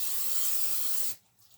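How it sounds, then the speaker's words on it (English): A bundt pan being sprayed with extra virgin olive oil spray: one steady hiss lasting about a second, then cutting off to near silence with a faint rub after. "We're going to spray it really good"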